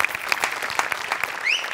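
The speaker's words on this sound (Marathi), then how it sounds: "जोरदार टाळ्या." A studio audience at a Marathi comedy show bursts into dense, sustained applause, many hands clapping at once, loud and close, with a brief whistle-like tone rising near the end.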